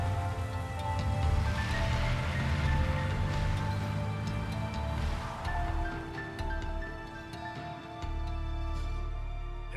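Steady heavy rain falling on surfaces, a dense continuous patter with a low rumble beneath, constant in level and without voices.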